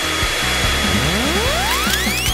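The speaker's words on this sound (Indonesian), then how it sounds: "Pengering rambut bukan ide yang buruk, Susi" A hair dryer runs loudly and close, a steady whirring roar whose motor pitch climbs smoothly as it spins up, with no voices.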